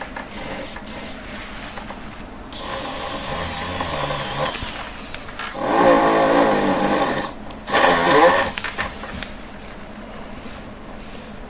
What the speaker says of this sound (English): not just put the drill through and see where it comes out